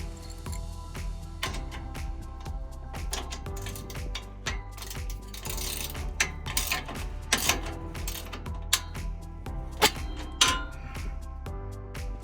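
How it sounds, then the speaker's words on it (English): A 14 mm ratcheting wrench works the exhaust bolts on a 2017–2020 Ford F-150 5.0L during a K&N single exhaust install, giving a busy run of metallic clicks, clinks and taps close by, with no talk. "Again, a 14 mil ratcheting wrench."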